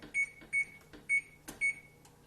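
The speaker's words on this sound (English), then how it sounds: "I better go ahead and turn my oven on so it can be preheating." A kitchen oven being switched on to preheat gives several short, faint electronic beeps in an irregular sequence, with quiet clicks between them.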